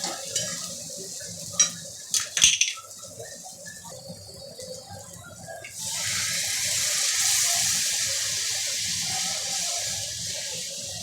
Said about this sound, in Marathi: याच्यामध्ये आपण आता गरम पाणी टाकून घेऊया.